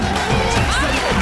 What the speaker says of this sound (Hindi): जोरदार तालियां जैमी के लिए